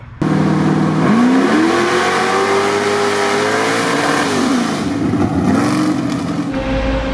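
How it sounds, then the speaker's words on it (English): A 1970 Chevrolet Monte Carlo bracket car's engine revs hard and loud, climbing and holding a high, strained tone that wavers and dips near the end before cutting off abruptly. "It sounded just like it was hitting the rev limiter when I was in there earlier."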